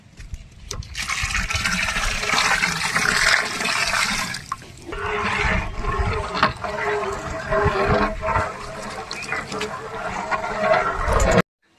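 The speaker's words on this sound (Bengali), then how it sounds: "দুধ দিয়ে দিলাম।" A continuous close pour of milk sloshing into a cooking pot, steady gurgling and splashing for about eleven seconds, ending abruptly.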